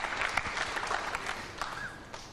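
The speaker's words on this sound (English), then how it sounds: "And they're applauding Reyes" Snooker crowd applauding Efren Reyes in a match against Steve Davis, a steady patter of clapping that stays fairly even and moderately close for a couple of seconds, then thins slightly toward the end.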